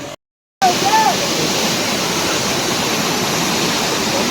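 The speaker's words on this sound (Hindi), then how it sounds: "ये रहा हमारा वाटरफॉल। यहाँ आप देख सकते हैं कि कितनी भीड़ है।" A waterfall roars loudly and close as a steady, dense wash of falling water. A crowd of visitors is around it, and a brief whistle-like sound comes through near the start.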